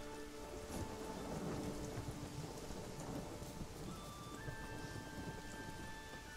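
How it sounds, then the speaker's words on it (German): Heavy rain pours down in a village in The Witcher 3, a constant wash of falling drops with low rumbling thunder beneath and faint tonal game sounds surfacing later, no voice over it. "Es regnet."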